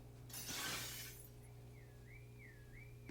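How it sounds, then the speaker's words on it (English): In the video game Since November, a swung pipe smashes car glass in a parking lot, a bright burst of shattering shards followed by a faint wavering car alarm tone. "A shower of glass rains upon the lot as the car horn blares its complaint."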